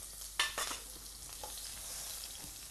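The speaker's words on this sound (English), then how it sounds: "in our pan with oil, put in some onions" Onions hitting hot oil in a pan, with a sharp crackle at the start that settles into a steady, fairly quiet sizzle with a few soft scrapes.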